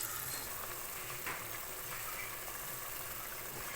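Onion, tomato, ginger-garlic paste, black pepper and cumin sauté for a Tamil fish curry, giving a faint, steady sizzling hiss with a low background hum and a couple of soft stirring scrapes.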